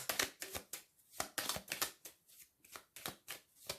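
Playing cards handled and set down on a table in a tarot-style reading, a quick series of soft slaps and slides close by, about a dozen brief taps in uneven rhythm with no talk.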